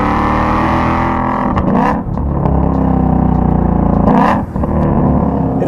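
A supercharged Ford Mustang Shelby GT500 engine revs hard and loud right up close, its steady roar dipping briefly twice as the revs change, with no talking over it.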